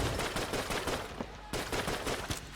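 Rapid gunfire in the video game Enter the Gungeon, spammed shots during a boss fight: dense rapid-fire bursts of loud, crackling shots with a brief gap in the middle, no voices.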